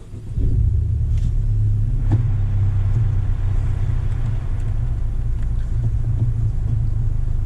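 A 2019 Honda Civic Type R engine starting up, with a brief crank and catch near the start, then a steady, loud, low idle rumble that runs on to the end.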